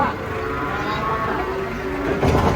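A low, drawn-out moo from a large cow being unloaded from a truck sounds over busy outdoor background noise, with a louder rustling burst near the end.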